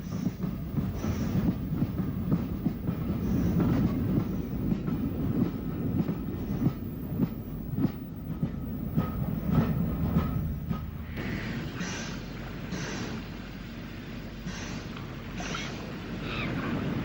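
Isle of Wight railway engines running in the 1950s era, a loud rumbling train with rhythmic clatter of wheels on track, easing slightly in intensity partway through, no speech.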